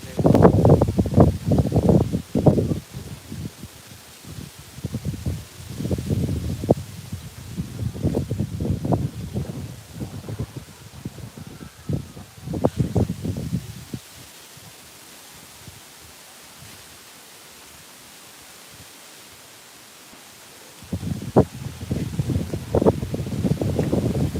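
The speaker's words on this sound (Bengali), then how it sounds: "প্রচণ্ড বাতাস শুরু হয়েছে" Strong cyclone wind from Cyclone Remal buffets the microphone in Bangladesh in loud, gusty roaring bursts, dropping to a near lull for several seconds before surging again.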